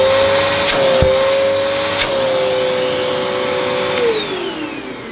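A Samsung Quiet Jet upright vacuum cleaner runs with a steady, loud motor whine close by, with a few brief clicks and bumps. Its pitch drops slightly near the end.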